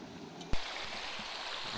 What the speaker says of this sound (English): that water's running real fast to the creek